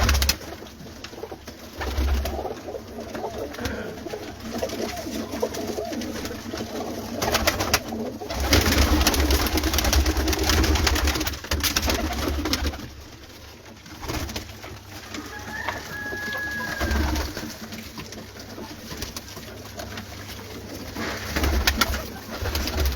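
Jaunsre breeder pigeons on a Lahore rooftop coo in soft repeated low calls, several birds near and farther off, over a steady background hum with occasional rustling and a brief distant whistle.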